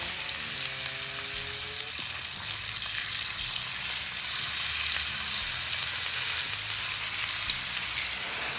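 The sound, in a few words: bacon strips sizzling on a Blackstone griddle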